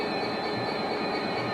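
Train in an Israel Railways simulator game braking to a stop at a red signal, a steady loud rumble of rolling wheels and rail noise with high, sustained squeal tones, continuous throughout.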